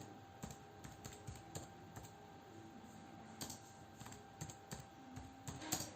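Typing on a computer keyboard into a spreadsheet, a quiet, steady run of light key clicks with a few heavier taps, close by and with no talking.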